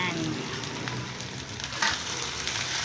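Bagoong shrimp paste from Bacolod frying in added oil, a dense continuous sizzle with occasional brief scraping bursts, close and steady throughout.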